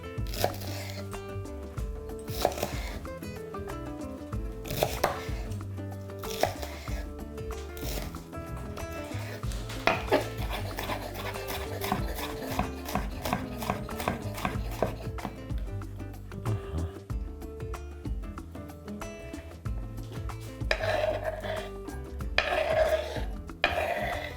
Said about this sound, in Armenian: Կտրատում ենք մանր։